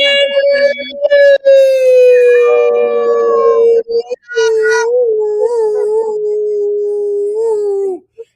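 A person imitates a dog howl with a long, loud, wavering, siren-like vocal tone that slides and breaks, sustained for about eight seconds close to the microphone.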